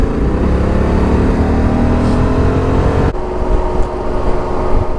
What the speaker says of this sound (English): I'm just going to rip the throttle